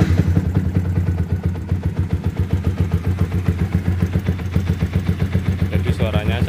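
A modified Yamaha Vixion motorcycle with a locally made Akrapovic-replica exhaust idles close by, a steady, loud, rhythmic low throb pulsing evenly throughout, with a brief voice at the very end.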